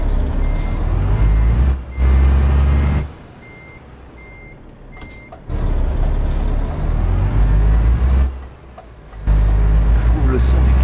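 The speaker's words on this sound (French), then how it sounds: "Je trouve le son du camion vachement fort encore." A Euro Truck Simulator 2 truck rumbles loudly up close, its engine drone cutting in and out while repeated reversing beeps sound and air brakes hiss, with people talking over the game sounds.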